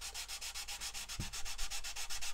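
Fine abrasive sanding on the underside of a plastic Airfix 1/72 Avro Vulcan B.2 model wing, heard as quiet, rapid back-and-forth rubbing strokes in a steady rhythm, close up with no talk.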